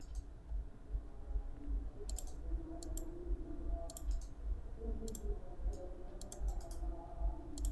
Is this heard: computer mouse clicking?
yes